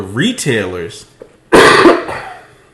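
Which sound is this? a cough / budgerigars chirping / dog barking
a cough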